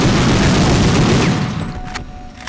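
A loud, rumbling video game explosion in Medal of Honor, at a V2 rocket factory, roars and slowly decays, followed by a couple of sharp pops as it dies away.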